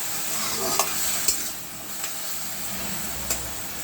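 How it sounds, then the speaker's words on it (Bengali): Spices and sugar stirred in a sizzling frying pan, a steady close fry hiss with a few sharp scrapes of the spoon against the pan. "ধনে গুঁড়ো, স্বাদ মতো চিনি দিয়ে একটু নাড়াচাড়া করব।"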